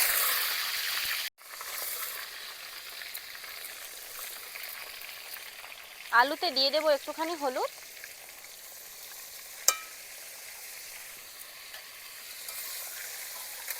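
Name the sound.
potatoes frying in oil in a wok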